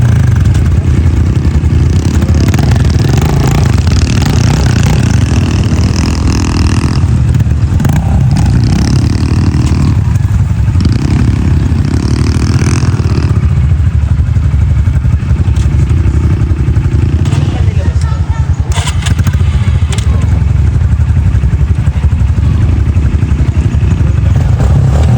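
A Honda CRF125F dirt bike engine drones loudly and continuously at a campsite, revving up and down with some clattering, close and dominating throughout.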